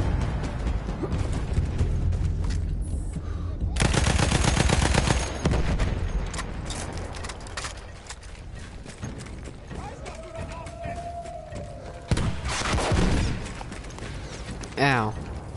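Bursts of rapid machine gun fire in the video game Battlefield 1, loud rattling volleys mixed with mechanical clatter and game effects, with someone talking over parts of it.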